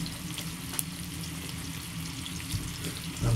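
Scallops frying with chorizo in a pan: a soft, steady sizzle and crackle that stays fairly quiet throughout, with a small bump of louder handling noise near the end and no talking.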